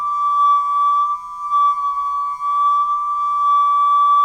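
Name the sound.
sine tone note getting louder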